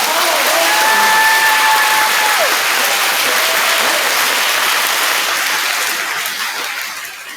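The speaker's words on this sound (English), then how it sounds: "let's give a round of applause for all of them" Loud applause from students, parents and guests at a school Veterans Day program, a full, dense round of clapping that holds steady, with a couple of faint tonal whistles early on, then tapers off near the end.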